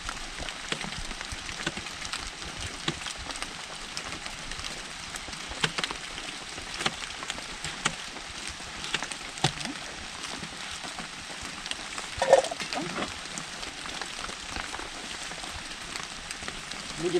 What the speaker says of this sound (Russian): дождик то моросит, то не моросит, то срывается, то не срывается